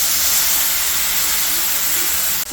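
Water poured into hot oil and spice paste while cooking koi fish, a loud, continuous hissing sizzle that stays strong and even before cutting off abruptly at the end.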